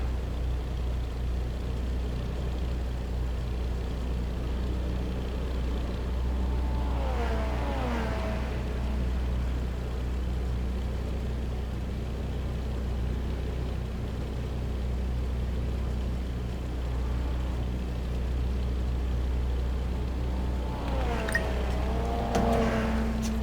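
Front-wheel-drive Audi race car driven in Assetto Corsa, a continuous low engine hum with a couple of brief rising and falling revs as it works through corners.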